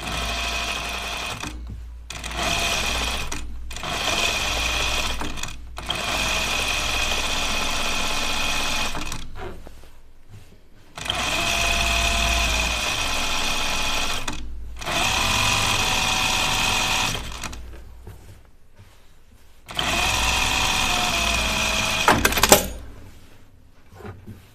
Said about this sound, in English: I'm glad we're top stitching this.